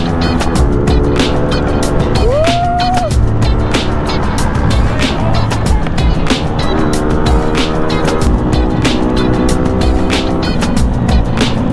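A motorcycle rides by on a scenic road near Victoria, Laguna, heard through the steady roar of the rider's own scooter engine and wind rushing past, with a brief rising engine tone partway through.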